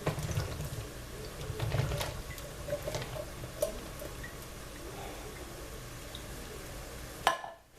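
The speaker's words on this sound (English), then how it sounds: "Going to drain the beans." Canned pinto and red kidney beans are being drained at a sink, with soft splashing water, liquid pouring and squishing through most of it. A sharper clatter comes near the end.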